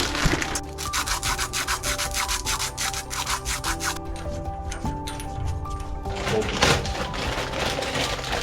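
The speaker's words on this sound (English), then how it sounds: "That's why we brought the sandpaper." Sandpaper rubbing on a metal pipe to prepare it for a ground clamp during a tankless water heater install: steady, fast, rasping back-and-forth strokes, close and fairly loud, with no talking.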